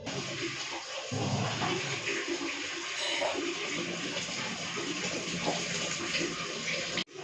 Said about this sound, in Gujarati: હવે તમે જોઈ જોજો, પાણી એકદમ સરસ રીતે આવશે.